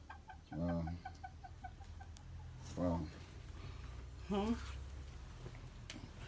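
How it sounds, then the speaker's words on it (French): Chickens clucking in a field in Bafoussam, Cameroon, in a few short bursts among quieter, repeated bird calls, with people talking nearby. "Oh, c'est le poulet ici comme ça."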